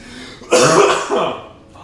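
A single rough cough or throat-clearing burst, close and fairly loud, fading into a brief rasp.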